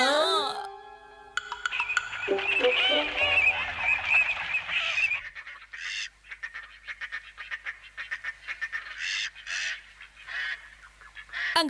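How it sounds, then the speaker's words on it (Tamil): Cartoon birds honk and call in a Tamil-dubbed Ninja Hattori episode, with a burst of loud, goose-like cries that thins into scattered, shorter squawks. "அங்க பாத்தீங்களா, சில பறவைங்க இருக்கு."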